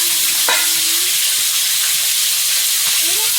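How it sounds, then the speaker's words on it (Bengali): Pond-caught snakehead fish frying in a pan gives a loud, steady, close hissing sizzle, with a couple of faint stirring scrapes. "আর মাছও এক খোলা ভাজা হয়ে গেছে, পরেরগুলো ভাজবে"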